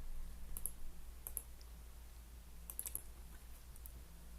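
Computer mouse clicks in a quiet office setting, a few sharp close clicks in small pairs spaced over a few seconds against a low steady hum.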